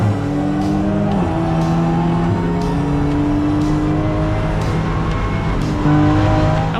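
A BMW M4 GT4 race car circuits the Nurburgring Nordschleife in an NLS race, its engine droning and shifting steadily up and down with brief tire squeal, loud and continuous from on board throughout.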